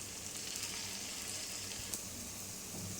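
Sweet potato paniyaram fry gently in a pan over a medium flame, a quiet, even sizzling hiss running throughout.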